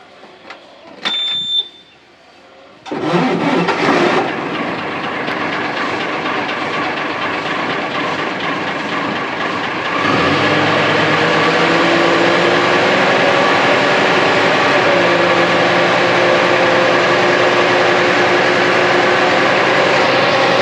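An old-cabin Ashok Leyland 2000 truck with a Hino engine starts after a few clicks and cranks, then idles loud and close as a steady diesel rumble that steps up in pitch around the middle.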